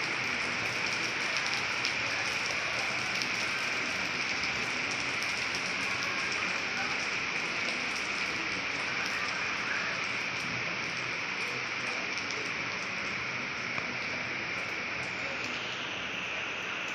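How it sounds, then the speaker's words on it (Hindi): Heavy rain pouring steadily outdoors, a loud dense hiss of drops striking surfaces that holds unbroken throughout, with faint voices beneath it. "बहुत तेज़ बारिश होने लगी है।"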